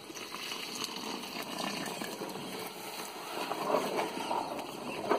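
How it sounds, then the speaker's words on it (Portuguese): Water poured into a bubbling quebra-queixo candy mixture with lemon while it is stirred, giving a steady liquid gush and sizzle with faint scraping, constant and close throughout. "Adicionando a água um pouco e vai mexendo."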